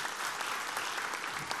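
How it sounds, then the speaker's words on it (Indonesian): Audience clapping in a church gathering, a brief, even burst of applause from a room of people, fairly soft and steady with no voices over it. "Boleh dong tepuk tangan buat Allah kita."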